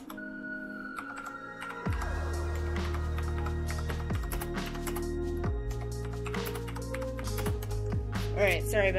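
Quick key taps on a computer keyboard while typing a text message in a gaming setup, a rapid irregular clatter over a steady electronic hum with tonal lines.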